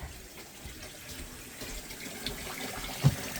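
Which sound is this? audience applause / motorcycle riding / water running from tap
water running from tap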